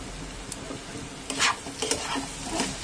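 Banana flower and prawn curry is stirred in a pan, with a few scraping strokes over a faint, quiet sizzle. No talking.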